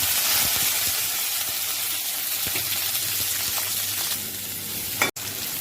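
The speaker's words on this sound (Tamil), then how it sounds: "கொஞ்சம் கடுகு போட்டுக்கலாம், கருவேப்பிலை போட்டுக்கலாம், தக்காளி வெங்காயம் போட்டுக்கலாம்." Mustard seeds, curry leaves, tomato and onion frying in a pan for an ivy gourd gravy, a steady loud sizzle with crackling pops throughout and a sharp clack near the end.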